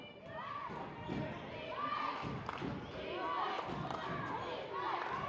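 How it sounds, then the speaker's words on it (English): High school girls' basketball crowd in a gym at a Lynn Classical versus Lynn English game, a dense roar of voices and rhythmic chanting for defense, with shoe squeaks and thuds beneath throughout. "English crowd calling for some defense"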